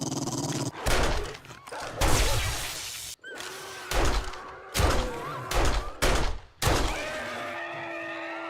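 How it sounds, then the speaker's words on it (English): Dogs growl and snarl in the 7 Days To Die video game, with repeated loud bursts of aggressive growling, thuds and impacts mixed with game effects, close up. "There's actually dogs outside, I believe."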